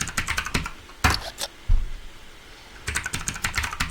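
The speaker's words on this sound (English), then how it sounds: "I'll just type a password for now." Keys clacking on a computer keyboard as a password is typed, in quick bursts of clicks with a short quiet gap in the middle, close and clear with no talking.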